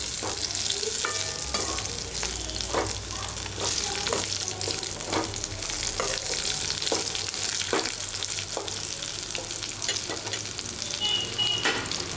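A coconut mixture for coconut chutney stirred in a pan on the stove: a continuous close sizzle with frequent rhythmic scrapes and taps of the spatula throughout, steady and fairly loud, no talking.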